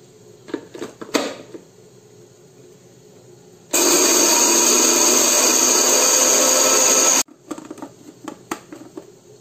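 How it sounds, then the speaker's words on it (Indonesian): A dry blender motor roars loudly and steadily for about three and a half seconds grinding roasted peanuts without water, with clattering and handling noises before and after. "Kita blender menggunakan blender kering ya."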